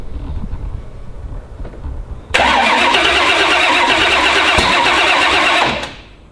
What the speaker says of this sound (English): I hear the injectors firing.